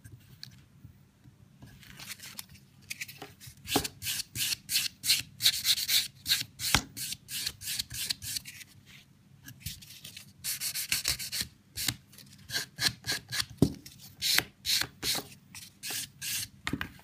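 A buffer is worked around the cuticle of a client's fingernail during a French manicure, giving quick rhythmic rasping strokes in short bursts separated by brief pauses, close and crisp with no voices.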